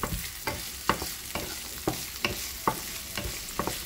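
Onion frying in a little olive oil in a pan, soft sizzling under a regular rhythm of spatula scrapes and stirring taps, close and fairly quiet.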